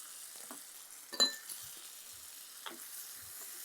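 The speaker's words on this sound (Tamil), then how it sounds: "இது எல்லாத்தையும் போட்டு நல்லா அப்படி 2 செகண்ட் நல்லா வதக்குங்க" Turmeric, kuzhambu powder and salt being sautéed in oil in a pan: a faint, steady sizzle with soft stirring scrapes and a light clink of a spoon against the vessel.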